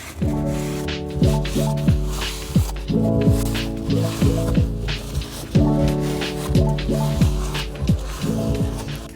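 An aerosol can of brake cleaner sprayed onto the rear brakes of a Renault Megane 2 during a pad change: repeated short, loud hissing bursts up close, each with a sputtering, squealing edge as the nozzle fires.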